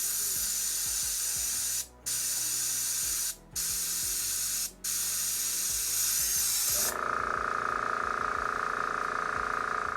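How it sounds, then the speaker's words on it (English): An airbrush air compressor hisses steadily, with a loud continuous spray of air broken by three brief cuts early on, then shifting to a brighter, steady hiss partway through, close and alone with no talk. "this is the advantage of having a big tank when it comes to your air compressor"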